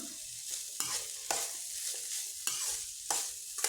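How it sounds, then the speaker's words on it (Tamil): Small onions and bitter gourd sautéing in oil, with a soft sizzle broken by regular stirring scrapes every half second or so, fairly quiet and with no talking. "இந்த ஸ்டேஜில் நம்ம கட் பண்ணி வச்சிருந்த சின்ன வெங்காயத்தையும் சேர்த்து நல்லா வதக்குவோம்."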